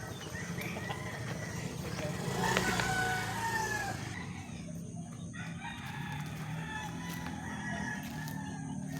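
Chickens and a rooster make steady farmyard clucking and crowing at feeding time, with a busy wash of bird noise throughout and one brief louder stretch early on.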